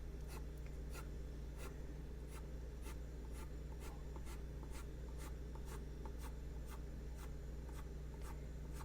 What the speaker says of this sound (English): Just gently whipping that pencil away.